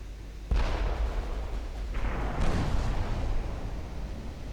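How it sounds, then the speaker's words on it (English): Warship broadside artillery fire in a naval battle game: a sudden heavy boom opens a dense, rumbling volley, with a second wave of blasts following about two seconds later, loud and close, no talking. "Give them the full broadside, which is risky, but there we go, they're all firing at me now."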